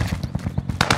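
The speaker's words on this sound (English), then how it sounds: "Contact. Under fire." A loud, close burst of rapid automatic gunfire in a first-person shooter video game, the shots evenly spaced and fast.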